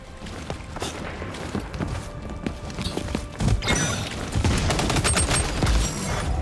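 Gunfight in the XDefiant first-person shooter: bursts of automatic gunfire and scattered shots crackle close and loud, growing denser in the second half, with footsteps and booms mixed in and no talking.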